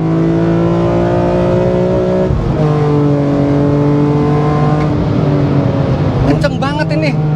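A BMW M3 E46 CSL's straight-six engine pulls hard through the gears, its loud, smooth tone climbing steadily, dipping briefly at two upshifts and then rising again.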